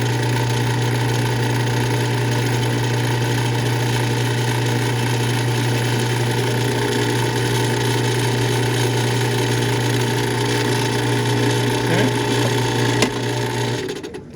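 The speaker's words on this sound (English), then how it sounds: "Letting the drill do the work." A drill press motor hums steadily with a low drone and faint whine for over ten seconds while drilling, then winds down near the end.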